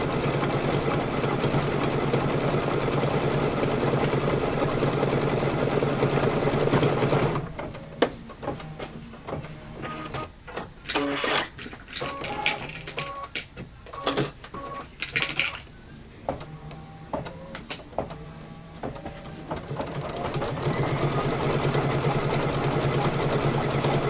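An embroidery machine works white thread into a decorative outline on quilted pillow fabric, giving a busy run of irregular clicks and whirring stitches between steadier stretches of motor hum.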